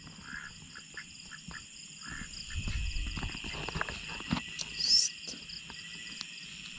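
Ducks on a farm give a few short quacks at moderate distance over faint insect chirping and soft shuffling movement, with no talking.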